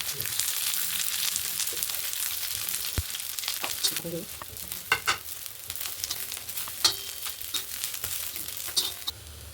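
Onion, coconut, garlic and coriander roast in a pan with a steady, bright crackling sizzle, broken by sharp scraping and clicking strokes as the mix is stirred.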